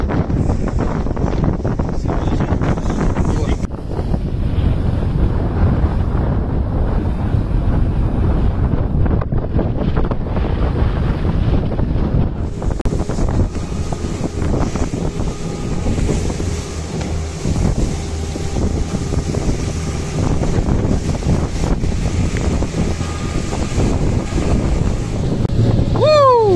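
Heavy, continuous wind roar buffeting the microphone on a boat in rough open sea, mixed with rushing water and spray, loud and unbroken throughout; a brief whistling tone near the end.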